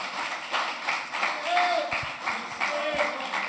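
An audience at a mosque lecture applauds in a steady patter of clapping from many hands, moderately loud and continuous throughout.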